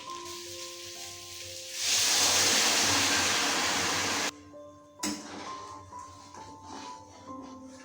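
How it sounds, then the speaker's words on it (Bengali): Hot water poured into a pan of spiced taro stems, a loud hissing sizzle that jumps up suddenly, holds steady for a few seconds, then cuts off, with a soft melodic background before and after. "এবার এর মধ্যে দিয়ে দেব গরম জল।"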